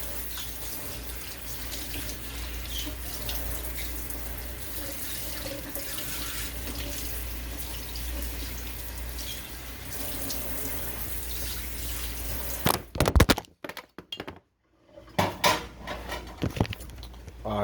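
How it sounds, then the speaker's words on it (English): Food being rinsed under a running kitchen tap for Haitian oxtail and stewing beef, a steady close rush of water that breaks off near the end into splashes and clatter. "I need to rinse this."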